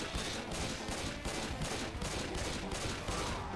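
Dense, nonstop automatic gunfire fills a Left 4 Dead match. Overlapping shots rattle loud and steady through the whole stretch, with no voices heard.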